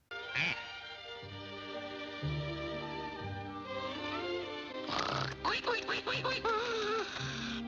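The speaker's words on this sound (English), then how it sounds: "the animation of Daffy just quacking to this potential female duck" A cartoonish Daffy Duck voice quacks in a rapid, nasal series over a bouncy music backing, the quacks growing busier and more excited toward the end.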